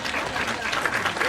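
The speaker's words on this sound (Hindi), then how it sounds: "सारे लोग ताली बजाओ" Audience at a Hindi comedy poetry gathering claps in a dense, steady burst, a brief wash of many hands close and loud with no pauses.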